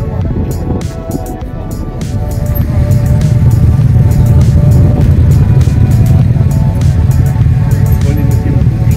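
A Suzuki M1800R (VZR1800, M109R) Black&Red Edition motorcycle rumbles along on a ride, its deep engine drone swelling after a couple of seconds and holding steady beneath constant wind buffeting.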